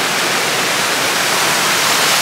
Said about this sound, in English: is you have this waterfall right here.